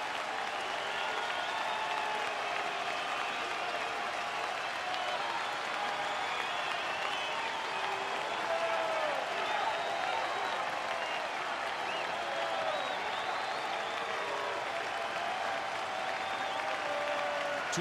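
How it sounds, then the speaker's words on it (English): A baseball stadium crowd at a Cardinals at Brewers game cheers and applauds with the bases loaded, a dense, sustained roar of clapping and voices that holds at an even level throughout. "Crowd getting pretty excited, aren't they?"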